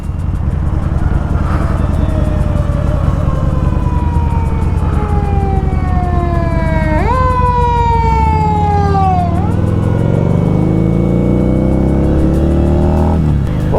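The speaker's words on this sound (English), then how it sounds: "And here comes the fire truck." A wailing fire truck siren sweeps up and down over steady traffic noise, rising in pitch as it approaches and dropping sharply as it passes.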